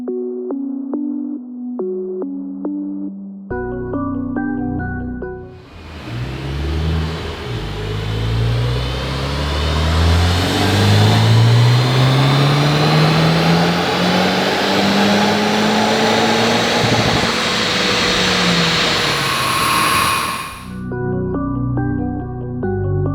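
A Honda Civic Type R FK8 with a Stage 1 custom ECU remap, HKS intercooler and Eventuri intake runs on a dyno, its engine note climbing steadily in a long, loud rising sweep, bracketed by music before and after.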